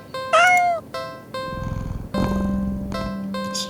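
A video game cat gives a loud, rising meow as it is played with, then softer repeated calls over a low purr, all close and with no voices.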